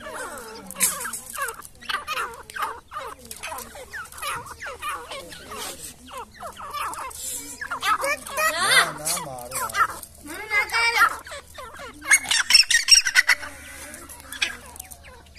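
Partridges (teetar) kept and bred at home call repeatedly in loud, rhythmic bursts close by, with other birds clucking and someone talking over them.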